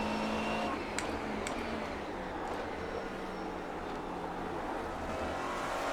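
A McLaren GT race car engine in iRacing at Donington Park drones steadily at speed, its smooth hum rising slightly as the car pulls away, with a few faint clicks and no speech.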